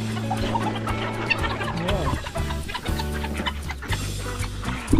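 Chickens cluck in a busy farmyard, a Chinese chicken among them and a pair of ducks nearby, with steady clucking and squawks layered over a constant low droning background.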